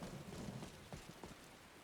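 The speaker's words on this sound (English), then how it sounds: "The water dropping on the ground too. I think that's a mod called Splashes of Skyrim." Rain drops splashing on the ground in Skyrim with the Splashes of Skyrim mod, a constant patter with low rumbling underneath and a few sharper drips standing out, no speech.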